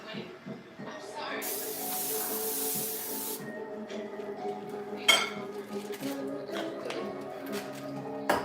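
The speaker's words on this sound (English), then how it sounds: "And a regular Butter spray." Butter spray released onto a grill makes a steady two-second burst of hiss, surrounded by light clinks and scrapes of cookware and utensils, fairly close and moderately quiet.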